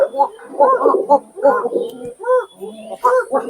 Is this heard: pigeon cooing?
yes